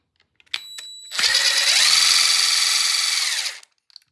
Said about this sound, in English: So you have to unscrew these first.